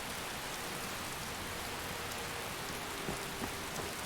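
Steady rain falling in a continuous dense hiss, close and even throughout, with a few faint drip or tap accents near the end and no voices.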